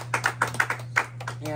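Brief bursts of applause at a tabletop wargaming tournament prize giving, a few people clapping in short uneven rounds under a steady low hum, with voices mixed in.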